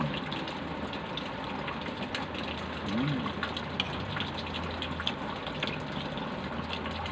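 Rain falling steadily outside, with a dense continuous patter and drips during an evening meal at home, a voice speaking briefly under the constant wash of water.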